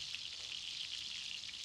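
Monkfish searing undisturbed in a hot pan while its crust forms, giving a steady, close bright sizzle and crackle that carries on with no talking.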